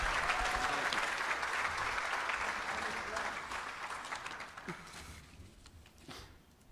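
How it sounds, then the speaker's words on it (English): A crowd applauds at an Austin Bold FC soccer club announcement event, a dense sustained round of clapping that gradually thins and fades toward the end, with a few voices and cheers mixed in. "round of applause to Kleber"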